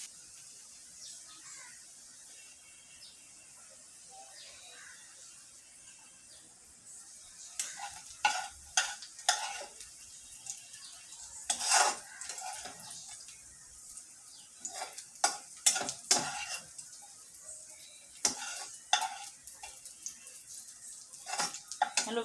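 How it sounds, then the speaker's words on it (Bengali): Onions fry in a pan with a soft continuous sizzle, then a spoon stirs and scrapes through them in bursts of clattering, scraping strokes that grow busier over the second half. "আমার পেঁয়াজ ভাজাটা হয়ে গেছে। এখন আমি উঠিয়ে নেব, কিছু অংশ উঠিয়ে নিব"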